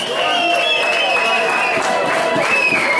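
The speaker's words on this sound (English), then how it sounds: "let's give Seymour another big round of applause" A crowd at a tribute event at Hootananny applauds and cheers for Ras Seymour McClean, a steady, loud wash of clapping with voices and whoops mixed in throughout.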